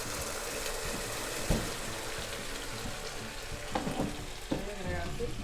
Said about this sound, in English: Voy a agregar salsa para que se fría.